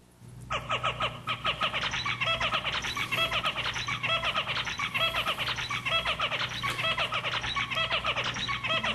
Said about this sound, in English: Zebra finch, song 2.